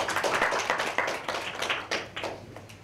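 Applause from a modest audience at an inclusion workshop session, a scattering of distinct individual claps with an uneven rhythm, close and moderately loud, with nobody speaking.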